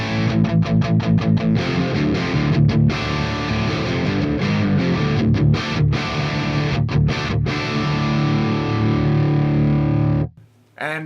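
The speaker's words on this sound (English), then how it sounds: "Let's have a listen to it into a distorted amp simulation." An electric guitar runs through an Audified Multidrive Pro pedal into a Spark 800-mode distorted amp simulation, giving crunchy, heavily driven chords and riffs with brief gaps, then an abrupt cutoff near the end.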